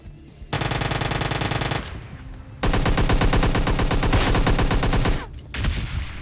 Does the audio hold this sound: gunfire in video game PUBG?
yes